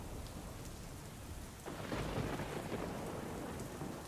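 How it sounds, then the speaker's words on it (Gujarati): Heavy rain pours steadily in Dharampur, Valsad, with a rolling rumble of thunder swelling partway through; no voices, just the constant hiss of the downpour. "ધરમપુરમાં પણ વરસાદ વરસી રહ્યો છે"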